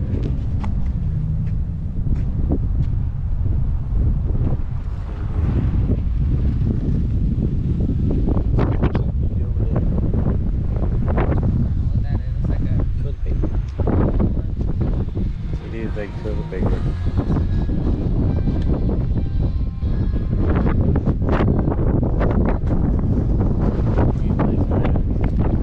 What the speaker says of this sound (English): Oh yeah, super windy.